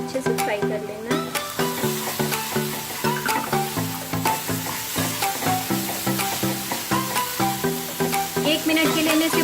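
Fennel powder and kasuri methi frying and being stirred in a pan for egg masala gravy, a loud continuous sizzle with steady scraping strokes of a spoon and no talking.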